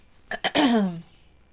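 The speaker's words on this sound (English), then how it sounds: "I'm sorry, I keep clearing my throat." A person clears their throat with two short guttural pushes followed by a longer rasping, voiced rumble, close to the microphone, then quiet.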